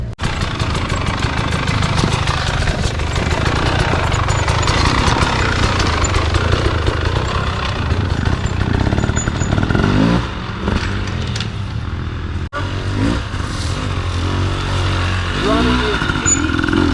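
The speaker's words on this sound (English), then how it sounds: "Increase the load, drive the weight forward, then release the clutch, let the bike come out from under." Dirt bike engine on a trail, a loud continuous rough drone with throttle variation, with a voice talking over it throughout.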